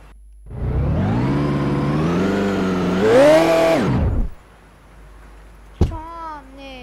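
A synthetic-sounding car engine in the game Turbo Dismount revs up loudly and holds, climbs higher, then drops away, followed by a short sharp hit and a voice.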